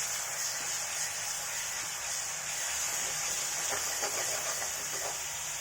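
Ground ginger, garlic, mint and pepper paste sautéing in a pan for a quail egg roast, giving a steady, even hiss of sizzling that runs unbroken throughout with no talking.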